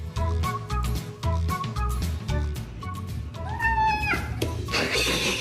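A cat meows among other cat sounds, a rising and falling cry near the end followed by a hissing burst, over steady background music or noise.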